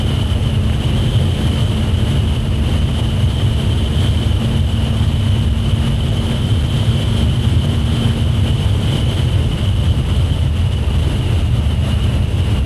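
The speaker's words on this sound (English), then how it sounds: "it's really windy" Strong wind buffets the microphone in a constant roaring rumble with gusty low-end thumping, steady and loud for the whole stretch, beside a car at a hotel, with no voices.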